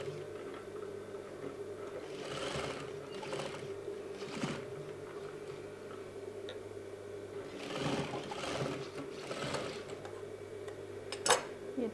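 A sewing machine stitching a velvet shrug runs as a low steady hum with soft rhythmic whirring in a few short bursts, fairly quiet and close.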